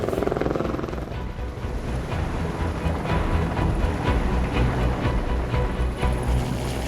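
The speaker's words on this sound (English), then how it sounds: "obviously with the use of helicopter" A steady, loud rotor roar and engine drone of a helicopter, continuous throughout with a rhythmic chopping pulse and no voices.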